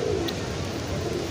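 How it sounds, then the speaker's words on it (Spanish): Pigeons cooing in a town plaza, Plaza Barrios: a soft low coo rises over a continuous wash of outdoor ambience and distant crowd murmur, brief and close. "lo que no debe faltar en los parques, miren, las palomas"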